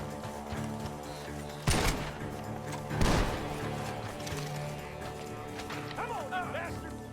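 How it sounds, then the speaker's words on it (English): Gunshots ring out from a barn in Red Dead Redemption II, two sharp loud cracks a little over a second apart amid low background ambience, with a voice briefly speaking later. "Gunshots are coming from that barn."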